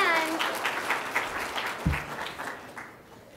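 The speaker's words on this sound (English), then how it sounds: "Round of applause for her." An audience claps for a woman who received chia seeds at a food-as-medicine talk: a lively burst of applause that thins out, with a voice briefly over it at the start and a low thump midway.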